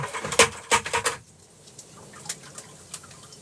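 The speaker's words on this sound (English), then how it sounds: "Dump some hot water in here." Hot water poured over a frozen boat in winter trickles and drips in a quick cluster of close splashes, then settles into scattered faint drips.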